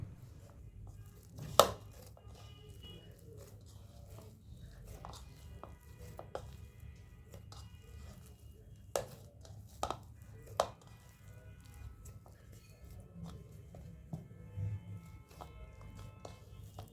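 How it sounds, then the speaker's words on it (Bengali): Roti dough made with leafy greens is cut into small portions, producing a few sparse, sharp knocks of a cutter against the board, spread out over a quiet kitchen background. "এখন আমি ছোট ছোট করে লেচি কেটে নিচ্ছি।"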